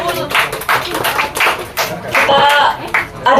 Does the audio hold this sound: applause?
yes